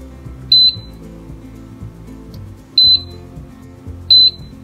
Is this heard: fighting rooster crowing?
no